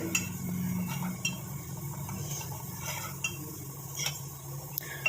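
A spoon stirs a heated aloe vera gel hair dye mixture in a pot, making soft scraping and light metallic clinks at an uneven rhythm, close and quiet, with no one talking.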